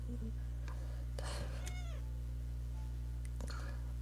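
A cat meows a few times in a video game, the Everyday Devil visual novel. The calls are short and distinct over a steady background hum of game music.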